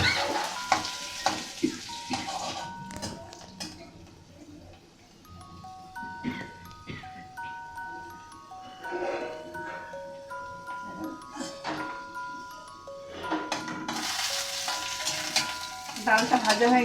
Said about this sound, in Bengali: এবার আমি ডালগুলো দিয়ে দিচ্ছি, ছোলার ডাল দিয়ে অল্প করে।